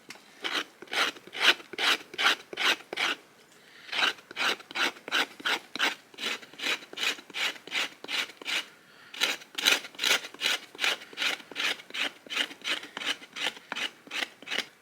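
A Racloir stone scraper rasps across wood in steady, rhythmic strokes, close and fairly loud, with a brief pause around four seconds before the scraping resumes without any talk.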